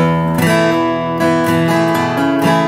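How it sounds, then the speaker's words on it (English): Sustained acoustic guitar chord ringing with a few quick index-finger hammer-ons adding small melodic flicks, played close and clear with no talking. "Sometimes he does a hammer on with his index finger."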